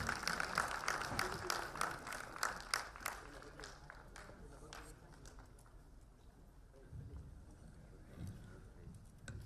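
An audience at a book release function for the book C - Company claps loudly in a burst of sharp, rapid hand claps that tapers off after a few seconds into quieter room murmur.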